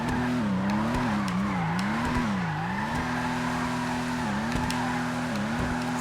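Vulcar Nebula Turbo car in GTA Online drifting through figure eights, its engine droning and rising and falling steadily with tire squeal throughout, loud and close with no talking.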